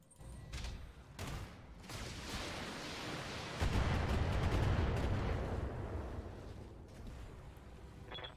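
Heavy mech weaponry firing in BattleTech: booming cannon and missile blasts rolling into a sustained, rumbling barrage that swells midway and then tapers off, fairly low in level with no talking.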